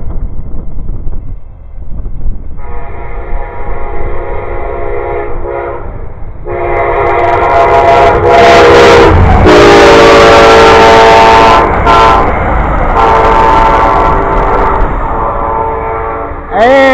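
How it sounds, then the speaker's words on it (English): A train rumbles past loudly and close while its horn blares in long, sustained blasts, growing louder in the middle before easing off. "here comes another train"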